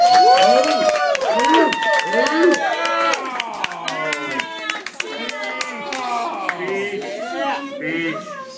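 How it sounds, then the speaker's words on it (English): Clapping and cheering for a birthday at a Happy Joe's pizza restaurant in Crookston, Minnesota, with sharp claps running throughout under loud overlapping voices and children's chatter. "Let's give her a round of applause and see if she'll stand for us"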